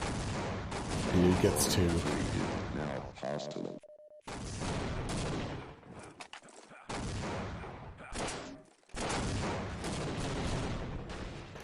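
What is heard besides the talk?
gunfire in a video game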